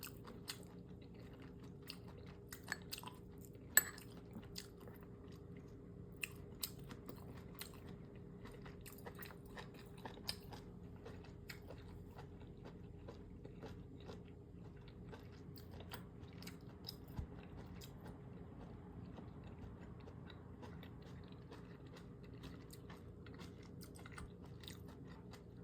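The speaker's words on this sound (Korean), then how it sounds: "대추 씨가 있기 때문에 조심해서 씹어야 돼요." Jujubes with seeds being chewed close up, giving soft, irregular crunching and biting bursts over a quiet background, with no talking.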